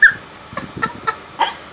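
A rooster gives a short series of clucks and calls, close and moderately loud, a sharp squawk opening the burst and a few separate clucks following with brief gaps, no voices.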